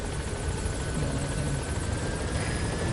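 A helicopter in Metal Gear Solid V drones loudly and continuously with a rapid rotor chop filling the whole moment as it arrives.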